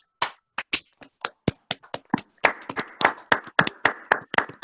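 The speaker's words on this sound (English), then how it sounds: "let's give Betty Jo a real virtual but realistic applause for having been such a wonderful" Attendees of a virtual Rotary Club changeover meeting clap for their outgoing president, sparse separate claps at first, then a denser, overlapping patter of hands, fairly close and dry.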